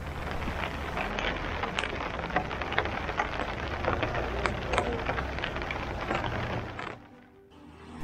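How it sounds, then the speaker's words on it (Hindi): Steady morning rain in the Pangi valley patters continuously with scattered sharper drops, a dense hiss that fades away briefly near the end. "सुबह उठा तो देखा बाहर बारिश हो रही है"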